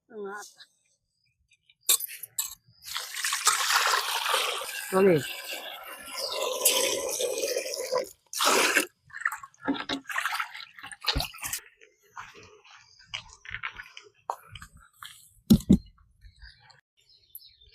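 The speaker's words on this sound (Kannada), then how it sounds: "ಅಕ್ಕಿನ ಒಂದ್ 2-3 ಸಲ ತೊಳ್ಕೊಂಡ್" Water sloshes and swishes as rice is rinsed by hand, with splashes and a few drips, followed by scattered clinks.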